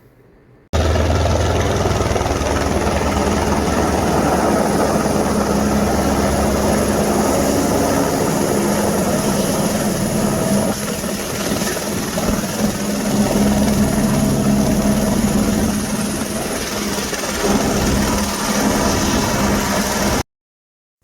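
A helicopter runs steadily and loudly at the Kedarnath helipad in the Himalayas, its continuous rotor and engine drone holding for about twenty seconds with a slight dip midway.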